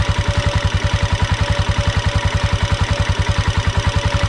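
A Spark R-14 motorcycle engine idles steadily up close, its rapid, even low-pitched chugging holding a constant rhythm throughout.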